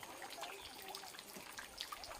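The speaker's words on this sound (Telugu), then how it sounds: "చూడండి గైస్, నేను ఇప్పుడు వాటర్ తీసుకుంటున్నా" Soft trickling and dripping of forest stream water being gathered on the Saleshwaram trek, faint and continuous, with a small bump at the very end.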